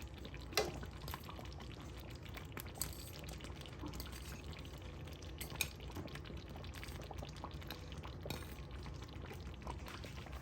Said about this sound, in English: It's time to add all the shrimps to it